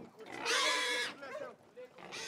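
A pig being readied for slaughter in Romania squeals in loud, harsh, strained bursts, one long shriek followed by shorter grunting cries and another squeal, close and raw.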